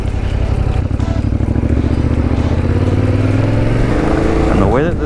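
A Yamaha Tenere adventure motorcycle on a test ride, its engine droning loud and close with rising and falling revs and a shift near the end, plus rushing wind noise.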